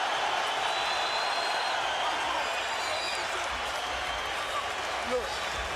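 Arena crowd noise from the Mayweather vs Pacquiao boxing fight, a dense continuous roar of cheering and applause rising as Pacquiao rallies the spectators, steady and loud throughout.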